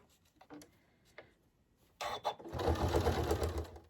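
A sewing machine stitches elastic onto a fabric face mask: a few soft taps and clicks, then a loud, close, rapid mechanical whirring run of stitching that continues to the end.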